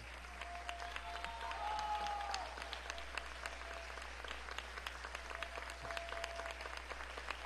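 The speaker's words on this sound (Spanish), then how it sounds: "Aplauso para Carlos Jiménez." An audience at the opening of an international theatre festival claps for a speaker, faint scattered applause with sharp individual claps standing out over a low background hum.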